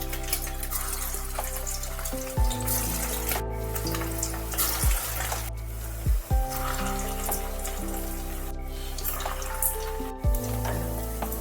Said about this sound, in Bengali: তেল ভালোভাবে গরম হয়ে গেলে কাবাবের সেপে তৈরি করে রাখা মাছগুলোকে আমি তেলের মধ্যে ছেড়ে দিচ্ছি